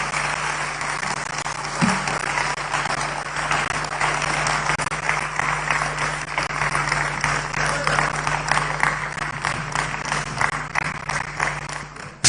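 Audience applause following a political speech at a National Democratic Congress address in Ghana, steady sustained clapping over a constant low hum, moderately distant and continuous.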